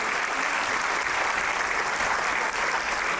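A hall audience at an annual dance academy show breaks into loud, continuous applause, a thick, even roar of clapping lasting throughout.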